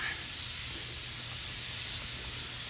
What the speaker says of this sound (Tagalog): Yung talong kabilaan ng spray nito